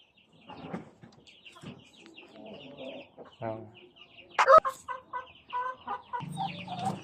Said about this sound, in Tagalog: So yan yung mga manok natin dito